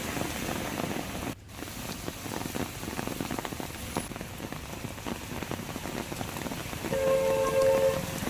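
Heavy monsoon downpour during flooding in Madhya Pradesh and Chhattisgarh, rivers and drains overflowing; a dense, steady hiss of rain on surfaces fills the whole stretch, swelling louder near the end, with no voices.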